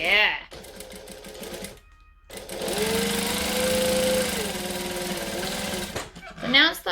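An overlocker stitching dress fabric runs in a steady, close mechanical whir for about three seconds, set between short stretches of voice and brief pauses.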